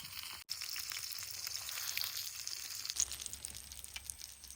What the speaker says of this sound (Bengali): মাছ ভাজাটা সুন্দর লাল লাল করে হয়ে গেছে